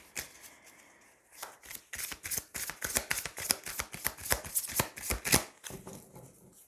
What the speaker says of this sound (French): Allez, on va tirer 3 cartes.